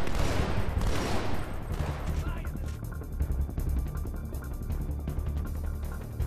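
Rapid BR-55 battle rifle fire from the Halo video game, dense repeated bursts with crashing impacts, fairly loud and continuous over a low rumble, with faint voices mixed in.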